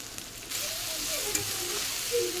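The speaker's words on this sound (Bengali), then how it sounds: "কিছুক্ষণ হালকা করে পেঁয়াজ কাঁচামরিচটা ভেজে নেব" Steady oil sizzle of onion and green chili frying in a pan, with a few soft scraping stirs over the continuous hiss.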